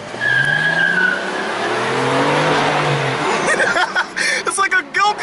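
A sports car accelerates hard, its engine note rising steadily under tyre noise, then excited voices and laughter break in near the end.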